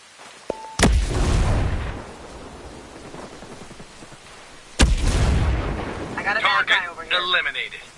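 A grenade goes off in Ghost Recon Breakpoint, a sudden deep blast with a long rumbling decay, followed by a second heavy explosion later and a crackle of gunfire-like bursts near the end.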